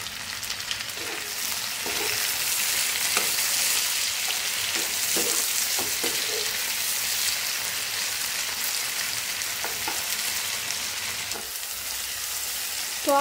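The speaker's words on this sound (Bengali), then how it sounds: "তো আমাদের পেঁয়াজটা টমেটোটা ভাজা হয়ে গিয়েছে" Chopped tomato and onion frying for mutton curry over a high flame, a steady dense sizzle throughout with occasional brief clicks of stirring, close and continuous with no talking.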